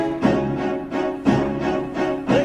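Full 60-piece orchestra hitting big downbeats, loud swelling sustained chords struck roughly once a second in a steady repeating pulse, with no voices.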